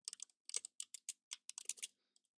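Code is typed on a computer keyboard in quick bursts of crisp, close key clicks with brief pauses between runs, ending with a couple of lighter taps.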